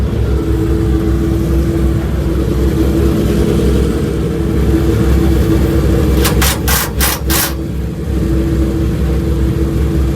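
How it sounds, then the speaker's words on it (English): Loud, steady roar of sprint car engines on the dirt track at Volusia Speedway Park fills the whole stretch, with a brief run of sharp rhythmic bursts near the end. "The sprint cars are out there now"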